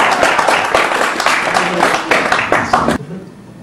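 An audience claps in a loud, close burst of applause with some voices mixed in, then the applause cuts off abruptly near the end.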